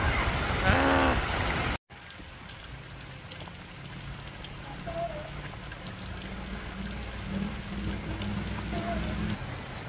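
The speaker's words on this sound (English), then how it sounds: "it's raining on us suddenly" Sudden steady rain patters down outdoors by a chicken coop across the whole stretch after a brief break at the start, with a faint animal call and low rumble underneath.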